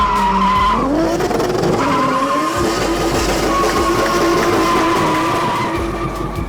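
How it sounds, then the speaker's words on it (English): Tires screech and skid continuously as a car spins hard, engine roaring underneath, loud and close for the whole stretch. "We really had a good laugh watching that car go crazy, doing donuts and spins, and Nadia is probably like screaming inside"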